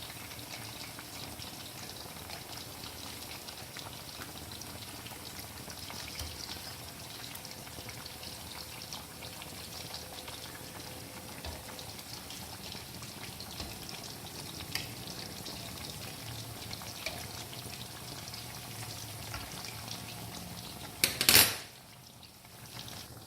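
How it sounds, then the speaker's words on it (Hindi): Basa fish fillets fry in a pan with a steady, soft sizzle that goes on throughout, then a brief clatter near the end as a piece is turned or lifted. "फ़िश हमारी दोनों साइडों से बड़ी अच्छी सी फ्राई हो चुकी है।"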